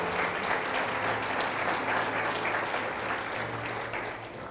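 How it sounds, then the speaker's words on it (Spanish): A church congregation applauds together in a steady, dense burst of clapping that stays loud and full throughout, with faint background murmur. "¿Sí aplauda al Señor?"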